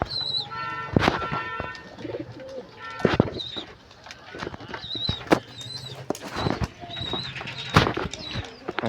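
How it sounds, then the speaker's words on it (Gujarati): Pigeons cooing in a rural yard or shed, several birds giving repeated throaty coos with occasional wing flaps and sharp knocks, fairly close and moderately loud with background bird chatter. "તો આ છે કબૂતર."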